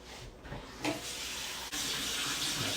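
Water runs steadily from a kitchen tap into a bowl, a close, continuous splashing rush that shifts brighter partway through as the bowl fills.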